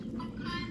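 Chickens cluck softly outdoors around a farmyard where they drink beet water, a faint, brief murmur of low clucks.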